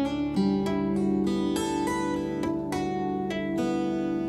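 Fingerpicked guitar plays low bass notes under a plucked melody, each note ringing clearly in an even, unhurried rhythm with no talking.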